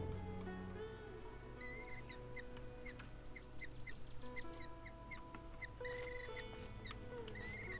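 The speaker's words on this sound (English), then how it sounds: "Annoying bird." Repeated bird calls ring out in the Genshin Impact video game, short bright chirps recurring throughout over a steady game music and ambient bed, moderately loud and unaccompanied by talk.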